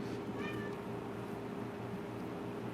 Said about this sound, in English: there goes a kitty cat